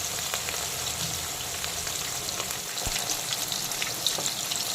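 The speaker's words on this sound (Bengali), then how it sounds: "রুই মাছের একটা দিক কিন্তু আমি ভালো করে ভেজে নিয়েছি ডুবো তেলে।" Rohu fish pieces deep-frying in hot oil give a dense, continuous crackling sizzle up close, with scattered pops and a small clatter near the end.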